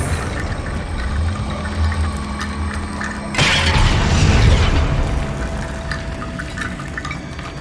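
A blast from the Confringo fire spell in Hogwarts Legacy bursts out about halfway through as a sudden loud boom. It sits over steady game ambience and decays into a rumbling tail.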